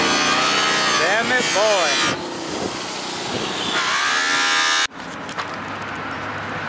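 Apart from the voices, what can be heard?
polishing machine polishing truck rims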